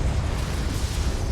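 A blasting spell detonates in the Hogwarts Legacy fantasy game, a sustained low booming rumble with crackling burst texture that rolls steadily for the whole stretch, loud and close with no talk.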